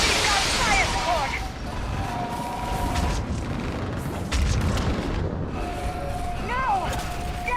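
Artillery fire support in the video game Mass Effect 3, heavy booming blasts rolling over a battlefield with rapid gunfire, shrill alien shrieks rising and falling, and voices shouting amid the constant loud din.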